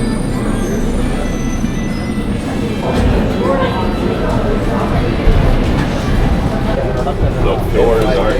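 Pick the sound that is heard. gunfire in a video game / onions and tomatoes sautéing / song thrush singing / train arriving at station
train arriving at station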